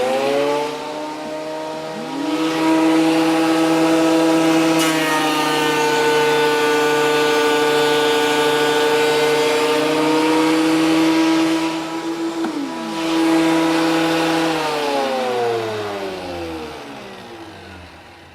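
RYOBI AP1305 12-1/2-inch thickness planer feeding a board through, a loud steady whining motor with strong harmonic hum that rises as the cut starts, holds through the pass, then winds down at the end.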